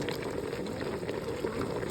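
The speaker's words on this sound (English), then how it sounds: "So it's boiling." A pot of kare kare broth simmers at a steady boil, a close, continuous bubbling and gurgling with no voices.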